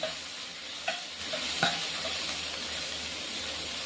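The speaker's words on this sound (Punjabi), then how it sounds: "ਲੋ ਜੀ ਟਮਾਟਰ ਆਪਣੇ ਭੁੱਜ ਚੁੱਕੇ ਚੰਗੀ ਤਰ੍ਹਾਂ" Chopped tomatoes roasting in a pan for paneer Maggi masala, giving a steady close sizzle with a few sharp scrapes and clacks of a stirring spoon near the start, and no voices over it.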